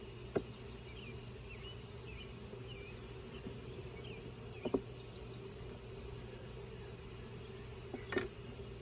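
Honey bees buzz at a hive, a steady low drone with occasional faint clinks and taps over it, close and continuous, with no voices.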